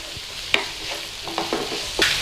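Leeks and onion fry in a pan, giving a steady close sizzle with several scraping stirs and clicks of a utensil against the pan.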